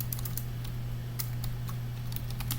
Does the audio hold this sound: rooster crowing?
no